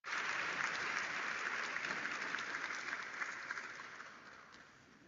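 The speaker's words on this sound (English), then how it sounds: "And if we could have another round of applause for Ms. Murphy and Nicole." Sustained audience applause fills a high-school graduation ceremony, a dense crowd of clapping hands that starts loud and steady, then slowly thins and fades over about five seconds with no voices on top.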